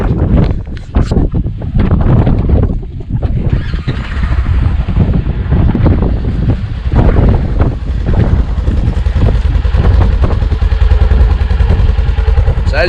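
Polaris Ranger UTV engine idling and running after start-up, a loud continuous rumble with clatter and wind buffeting across the microphone, steady throughout.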